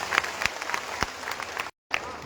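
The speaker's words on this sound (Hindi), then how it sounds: "और एक बार जोरदार ताली बजा दीजिए" Audience at a Bhagwat katha gathering in Lalsot bursts into loud, dense clapping that runs steadily, breaks off for a brief gap, then resumes.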